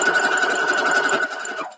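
A sewing machine stitches nine patch quilt blocks, a steady continuous whirring hum held close and fairly loud for under two seconds before it stops abruptly.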